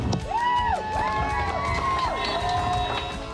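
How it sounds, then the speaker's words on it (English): Family and friends cheer newlyweds from the neighbours' yards in Manitoba, with loud outdoor whoops, shouts and rising whistles from several people overlapping in a lively, sustained burst. "You hear the cheers? It's because the other family and friends were there"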